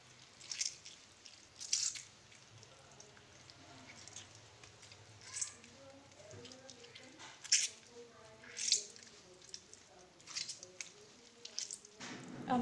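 Warm homemade mozzarella cheese, made without rennet, squeezed by hand to press out water: soft, scattered wet squishes and drips at close range, irregular and fairly quiet.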